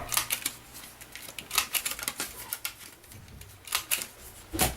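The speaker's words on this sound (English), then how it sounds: "So now I'm going to round my corners on this" A corner rounder punch clicks repeatedly through card stock, sharp close snaps coming in quick irregular bursts with small rustles of paper between them.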